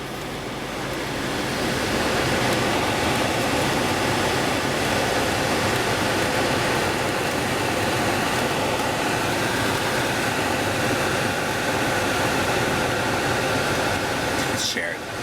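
The climate control in a 2006 Infiniti blows air on auto from the dashboard vent, a steady, loud, broadband whoosh of rushing air that holds evenly for the whole span.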